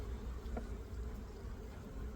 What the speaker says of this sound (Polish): Pszczoły w sumie spokojne, nic tutaj nie atakują, nie rozlatują się.